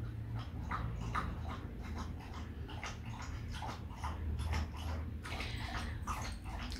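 A dog whimpers and whines in short repeated bursts, with soft splashing water in the background and no talk.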